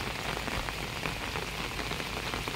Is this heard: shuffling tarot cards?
no